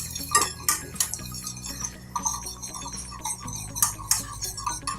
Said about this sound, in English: we'll just continually stir it as we combine all these ingredients together